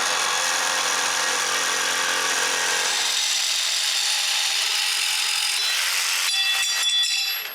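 A jigsaw cuts through wooden stock for a homemade wooden chainsaw mill part, a loud, steady rasping buzz that runs continuously, shifts tone midway, then ends in a few sharper rattling strokes.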